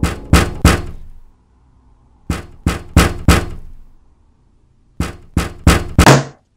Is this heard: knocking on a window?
yes